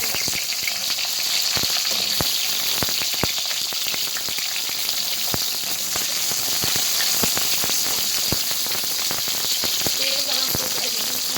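Onions and green chilies frying in hot oil, a steady close sizzle with sharp pops and crackles scattered throughout.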